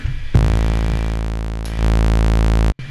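A buzzy, bright sawtooth synth bass tone made in Reason 6 holds steady on one sustained note, loud and alone, with a slight shift in brightness near the end.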